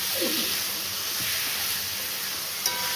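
Salted mutton being fried and stirred in a hot pan for a Bengali curry, a steady bright sizzle and hiss close up with a brief clink near the end.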